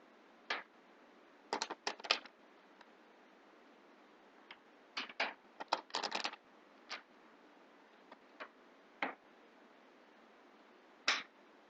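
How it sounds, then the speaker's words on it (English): A deck of tarot cards is shuffled in short, crisp bursts of snapping and riffling, separated by quiet gaps, close and faint against a low steady hiss. "I'm going to shuffle real quick."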